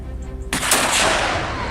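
A single loud gunshot fired at a wild boar cracks out sharply, then its echo rolls away and decays slowly over the next second, with no talk.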